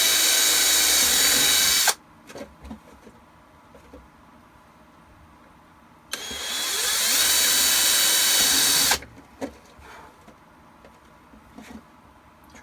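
A power drill whines loudly in two bursts, each a few seconds long, drilling two holes in a Shadow Trooper armor build, with quiet handling clicks and taps in the pause between.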